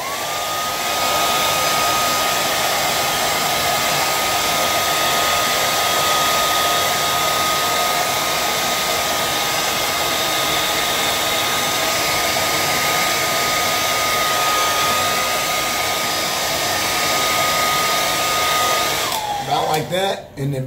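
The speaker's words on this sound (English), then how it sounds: "Sometimes I'll blow dry this up so this all gets real straight." A hair dryer blows steadily for about twenty seconds while straightening a curly beard, a loud, even whirring roar with a constant high whine, cutting off near the end with a few handling bumps.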